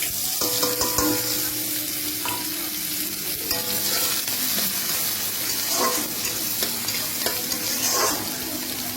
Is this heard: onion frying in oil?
yes